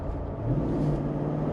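A Jeep Wrangler Rubicon 392 V8 engine rumbles steadily, heard from inside the cabin, a deep continuous drone that swells slightly as the engine revs, with no talking.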